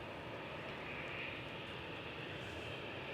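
Steady roaring drone of jet airliner engines, Rolls-Royce Trent XWB, at Manchester Airport, loud, close and growly, with a broad rumbling hiss throughout.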